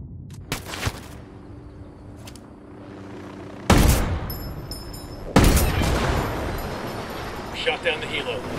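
Heavy gunfire and booming blasts bring down a helicopter in the Ghost Recon Wildlands shooter game, with loud bursts of shooting separated by quieter rumbling stretches and a final sustained barrage.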